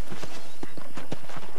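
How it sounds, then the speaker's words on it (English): Horse hooves clip-clopping in a steady trotting rhythm in a video game, close and clear, with no talking over them. "let's see if you can still ride a horse."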